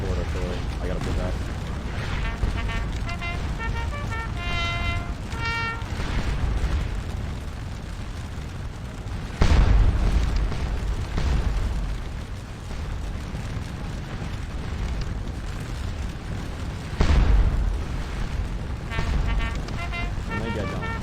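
Fort artillery booms in a Waterloo battle video game, with a few heavy explosions thudding out over a continuous din of battle noise while someone talks throughout.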